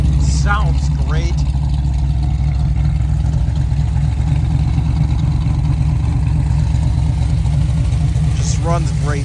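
A 1967 Chevrolet Camaro with dual exhaust idles steadily and loudly close by, its low rumble even and unbroken throughout.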